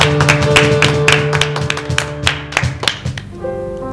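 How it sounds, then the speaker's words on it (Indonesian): Sunday school children clap their hands over sustained musical tones, producing a series of sharp, loud claps in a quick, irregular rhythm. "Kasih tepuk tangan."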